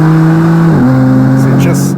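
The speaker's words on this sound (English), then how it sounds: "it's the sound of the straight six" Straight-six engine of a 2015 BMW M4 revving steadily up close, a loud continuous drone that dips in pitch partway and then holds, with a voice talking over it.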